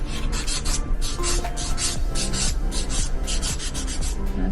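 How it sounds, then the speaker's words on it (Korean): Fingernail with a torn edge being filed with a sanding file: a steady, close rasping of quick back-and-forth strokes that runs without pause and without talk. "샌딩 파일로"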